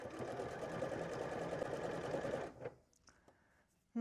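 A Bernette b38 sewing machine runs decorative stitches in a steady, rapid whir for about two and a half seconds, then stops, leaving a few faint clicks.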